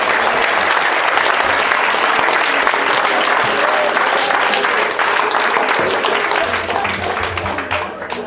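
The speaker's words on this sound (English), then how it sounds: "Come on, you can clap." An audience at a live talk in Edinburgh claps in a sustained, dense burst of applause that stays loud throughout and tapers slightly in the last second.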